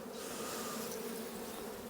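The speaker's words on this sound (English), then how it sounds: "And then if I just gently tap the bees." Honey bees in an open hive during an inspection make a steady, dense buzzing drone, close and continuous throughout.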